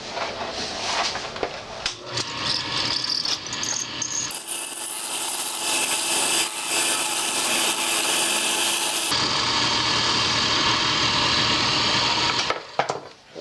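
A skew chisel cuts a spinning pen blank on a wood lathe, making a loud, close, continuous scraping rasp that turns harsher and brighter midway, then eases back to a rougher grinding tone.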